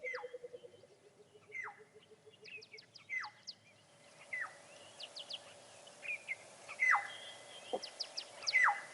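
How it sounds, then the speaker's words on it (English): A Burchell's cuckoo calls repeatedly from a live wildlife camera, a series of clear descending whistled notes at a steady pace, moderately distant, with other faint bird chirps and low background hiss around it. "That was a Burchell's cuckoo."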